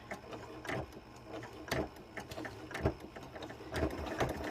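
A sewing machine stitching through thick quilt layers runs in uneven bursts of rapid mechanical clatter, close and moderately quiet, with no talk over it.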